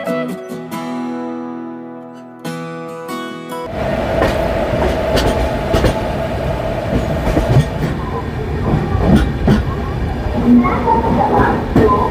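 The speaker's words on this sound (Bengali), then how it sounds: "হাওড়া থেকে প্রায় 114 কিলোমিটারের যাত্রা শেষ করে আমাদের ট্রেন এখন এসে পৌঁছেছে খড়গপুর জংশনে" The Howrah–Puri Superfast Express pulls into Kharagpur Junction, steady rumble and rhythmic clatter of wheels on rails after a brief stretch of music, with people talking over the train noise.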